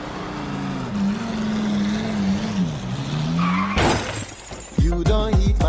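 Car crash: a steady engine drone gives way at about four seconds to a sudden loud impact with crunching metal and shattering debris, followed by further bangs and skidding noise near the end.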